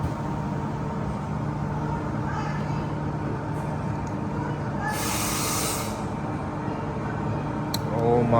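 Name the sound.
train waiting at Midland Station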